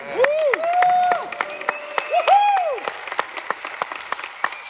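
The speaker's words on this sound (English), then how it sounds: "I'd like to give you a nice round of applause for everybody's time." Audience applause at a roller coaster event in an amusement park, with sharp scattered claps and rising, sliding whistles or cheers, thinning out to sparse individual claps by the end.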